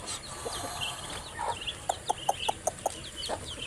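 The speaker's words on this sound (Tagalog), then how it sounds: "Ito yung matandang barako." An old rooster gives a run of sharp, evenly spaced clucks close by, about six quick calls in a row, with other fowl chattering faintly around it.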